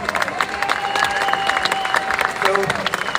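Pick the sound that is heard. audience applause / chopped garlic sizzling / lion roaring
audience applause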